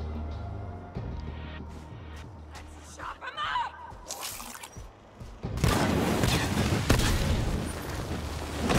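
Gunfire in the shooter game Borderlands 3, with scattered sharp shots and booms early on, then a denser, louder barrage of weapon fire and impacts in the second half.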